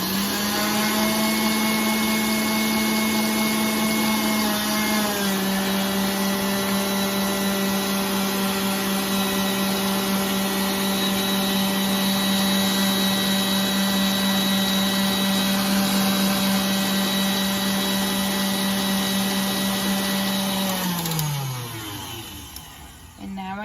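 An electric mixer whips tres leches cake batter toward stiff peaks, a loud steady motor whine running continuously, dropping slightly in pitch early on and then winding down near the end.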